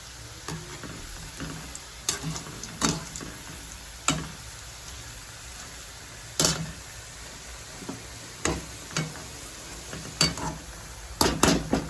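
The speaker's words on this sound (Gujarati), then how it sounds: "આ રીતના આપણે બધી ફ્રેન્ચ ફ્રાઈઝ તળી લઈશું।" Quiet, even bubbling of french fries frying in oil, broken by sharp crackles and pops scattered irregularly throughout.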